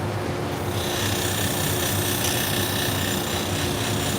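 A steady, dense rasping grind runs throughout as damaged salon shears are sharpened and their edge convexed, loud and close with no pauses and no talking.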